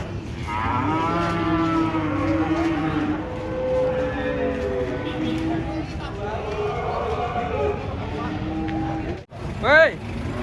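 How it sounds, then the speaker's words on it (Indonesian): A giant cow being unloaded from a truck gives long, loud lowing moos over a running engine, while people talk nearby and one sharp shout rises near the end. "sapi yang ditunggu"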